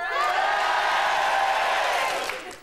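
Crowd at a comedy show cheering and clapping, a dense wash of applause and whoops that swells and then fades out.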